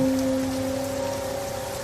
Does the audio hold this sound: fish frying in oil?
no